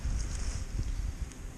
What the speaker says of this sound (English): This morning started off extremely windy, and it's remained windy all day today.